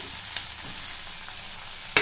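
Chopped tomatoes sizzle steadily in hot oil tempering in a pan, with a few scraping stirs of a spoon, close and continuous, and a sharper clink at the end.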